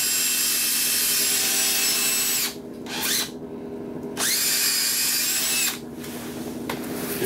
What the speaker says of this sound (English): bring out your little cordless drill